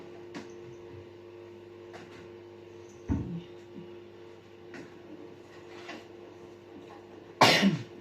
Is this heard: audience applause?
no